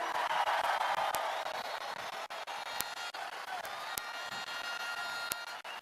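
Rally crowd in Copacabana applauding and cheering during a political speech, a steady dense wash of clapping and voices from a large outdoor gathering, sustained throughout with a few sharp peaks.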